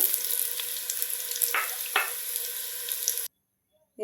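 Potato pieces fry in hot oil for egg biryani, a dense, bright sizzle close by with a couple of stirring scrapes, before the sound cuts to silence.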